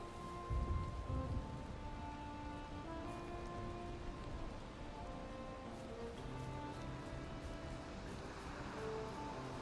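Steady rain and storm ambience from the video game Valheim, a dense continuous hiss of rainfall with faint tonal ambient music layered underneath, holding at an even loudness throughout.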